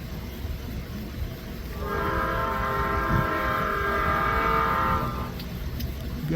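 An Amtrak Sunset Limited train horn sounds one long sustained blast at a distance, over steady rumbling rail noise, with no voices.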